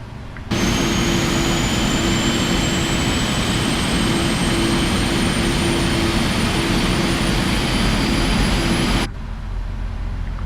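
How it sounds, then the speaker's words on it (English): Simulated jet engine spooling up on a PMDG 777-300ER in Microsoft Flight Simulator 2020, a loud steady roar with a rising whine that holds for several seconds and then cuts off abruptly. "Engine number 2, or engine number 1 I should say, start."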